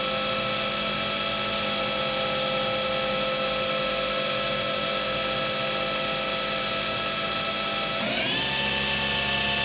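A Cincinnati Milacron Arrow 500 vertical machining center spindle spins at about 3,000 RPM, giving a steady, close, high-pitched mechanical whine whose tone shifts upward near the end as the speed changes.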